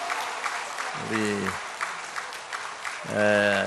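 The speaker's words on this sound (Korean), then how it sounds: "우리 한 번 더 박수 한번 쳐주세요" Clapping from a crowd, steady and broad, continuing while someone speaks over it at a few points.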